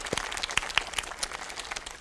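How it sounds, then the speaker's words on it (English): Audience applause for elementary school student violin players at a school district press conference, a short burst of moderately loud scattered clapping from a small crowd. "let's give it a round of applause to them"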